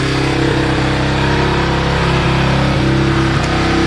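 A 1985 Honda ATC 250SX three-wheeler engine runs steadily to burn off excess fuel in the carburetor, a loud, close, unbroken mid-pitched drone with small fluctuations in revs.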